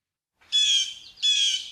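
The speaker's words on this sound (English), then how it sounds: "So here's the blue jay again." A blue jay gives two harsh, nasal calls in quick succession, close and loud against near silence.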